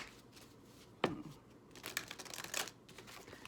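Tarot cards are shuffled in short crisp riffles and flutters, one sharp snap followed by a flurry of papery shuffling close to the microphone, with no voice.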